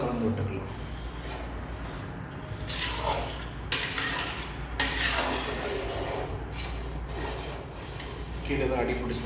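A spoon scrapes and stirs wet rice for chicken biryani in a pot, rubbing and sloshing in uneven strokes at close range.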